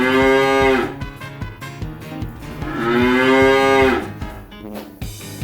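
A cow moos twice, each a long, loud, low bellow of about a second, with a quieter pause between them.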